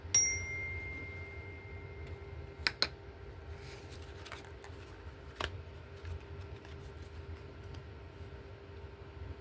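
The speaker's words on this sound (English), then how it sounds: "Let's give a little chime." A small chime is struck once, its bright ringing tone opening loud and decaying over several seconds, followed by a few faint clicks and taps in an otherwise quiet room.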